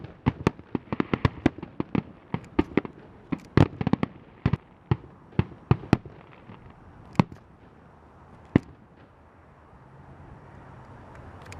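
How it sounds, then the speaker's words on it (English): Fireworks finale: a rapid barrage of sharp bangs and crackles, dense at first, then thinning to scattered booms before falling quiet. "this definitely is looking like the finale here. There's a lot going on. Man, fireworks are so cool."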